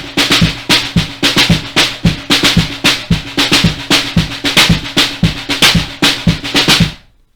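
A fast shuffle on a snare drum: a steady, driving stream of crisp strokes with regular louder accents, played alone and close for about seven seconds before stopping.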